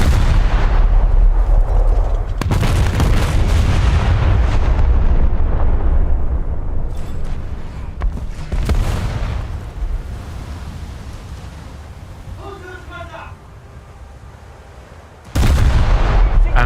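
Naval shells from a warship video game detonate on a ship, heavy booming blasts and rumbling bursts at close range, with a sudden loud explosion near the end.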